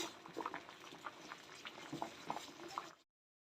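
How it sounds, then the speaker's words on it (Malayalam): Thick tomato chutney bubbling and popping in a pan, with irregular soft plops and sputters over a steady simmering hiss, close by, no voices. "തിളച്ച് റെഡി ആവട്ടെ"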